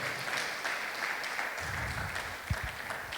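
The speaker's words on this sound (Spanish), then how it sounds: "empezamos así la palabra con un aplauso" A church congregation claps during a worship service, a moderate, steady patter of hands that stays fairly quiet, with a few low thumps near the end.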